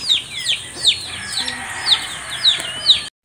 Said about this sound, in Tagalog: May mga manok na yan